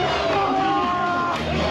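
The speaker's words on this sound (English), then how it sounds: "everybody that's lining the sides of the road, just cheering people on, like complete strangers" A roadside crowd cheers on walkers at the 4Daagse long-distance march, a dense, continuous wash of whoops, shouts and clapping close by.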